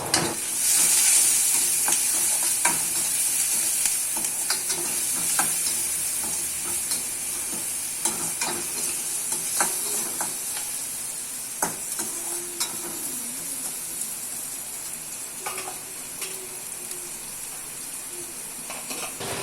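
Onions sauté in a pan for mushroom soup, a continuous close sizzle with frequent spoon clicks and scrapes from stirring running throughout, with no talking.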